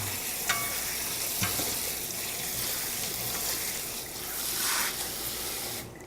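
Food sizzles and rattles in a hot frying pan as it is tossed and shaken, a steady frying hiss with a few soft clanks, close and alone.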